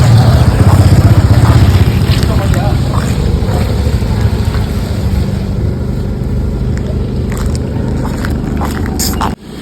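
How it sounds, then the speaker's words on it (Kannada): A car driving at night in the rain gives a loud, steady roar of road and wind noise throughout, cutting off abruptly at the end. "ಹಾಗಾಗಿ ಕಾರಲ್ಲಿ ಹೋಗ್ತಾ ಇದ್ದೀನಿ"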